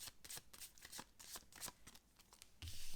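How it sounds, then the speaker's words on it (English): Tarot cards are shuffled in rapid, crisp riffling bursts, close up and fairly quiet, with a short pause before a final flurry. "we give them a quick shuffle"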